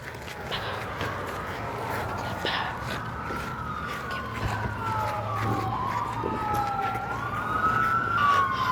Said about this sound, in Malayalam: അവിടെ ആംബുലൻസ് ഒക്കെ പോകുന്നുണ്ട്.